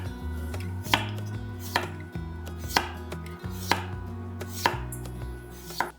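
A knife slices potatoes into thin rounds on a cutting board, giving a steady series of crisp, close chops roughly every second with no talking.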